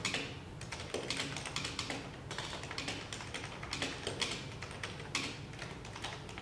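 Steady typing on a HAVIT HV-KB380L mechanical gaming keyboard, close and crisp, an irregular run of key clicks and taps with brief pauses between bursts.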